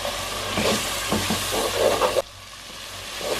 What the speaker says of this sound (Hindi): अब ये डालेंगे चिकन को भून लेंगे थोड़ा सा